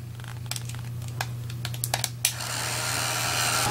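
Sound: heat gun blowing on UTEE embossing powder

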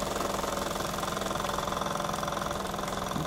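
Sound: steam engine running with a slight knock

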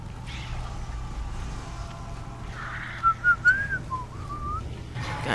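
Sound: person whistling

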